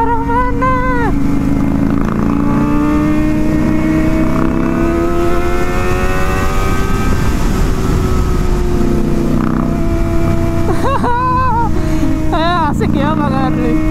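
A Kawasaki ZX motorcycle engine revs again and again, pitch sweeping up and down in repeated bursts, loud and close, with people talking over it and other traffic nearby.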